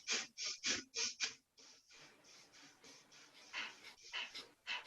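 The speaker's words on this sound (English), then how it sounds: "So you're forcefully exhaling." Forceful nasal exhalations in yoga breathing, a run of quick, sharp breath pumps through the nose followed by softer, steadier breaths, close and fairly quiet.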